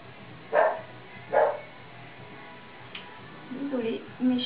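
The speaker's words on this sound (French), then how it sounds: "Mes chiens font un petit peu de bruit." Several dogs at home give a few short, muffled barks, two spaced bursts early and a cluster near the end, moderately distant over a low indoor hum.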